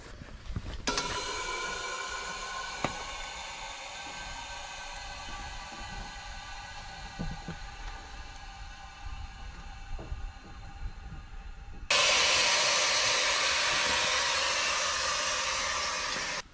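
Air suspension bags on a Kenworth W900L truck filling with air, a steady loud hiss with a whining tone that jumps to a brighter, harsher rush near the end, close and with no talk.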